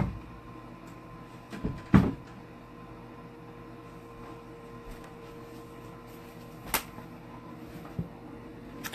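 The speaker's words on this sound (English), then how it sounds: "Let me shut this door real quick." A door being pushed shut in an old 1901 farmhouse, a single muffled thump against a quiet room, with a second fainter knock a few seconds later.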